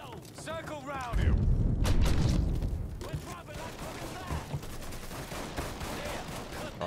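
Gunfire in Mafia III: Definitive Edition: a dense, booming burst of shots about a second in, then scattered pops and rattling fire continuing in the distance over game ambience.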